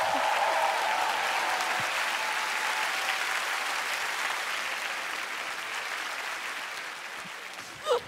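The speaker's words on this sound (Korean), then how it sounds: "2014년 최고의 한 해를 보내신 이 두 분께 뜨거운 박수 부탁드리도록 하겠습니다" Studio audience applause on a Korean TV music talk show, a steady broad wash of clapping that holds for several seconds and slowly tapers off, with a faint voice briefly heard early on.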